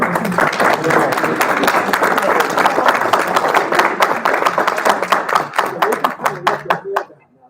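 Loud, close applause from the audience at a nursing pinning ceremony for newly licensed nurses, with crisp individual claps standing out in a dense stretch that stops abruptly near the end.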